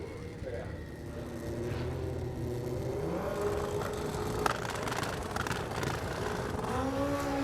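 Turbocharged Kawasaki drag bikes making a pass at a drag strip at night, engine roar rising and sweeping as they accelerate, heard under continuous commentator talk.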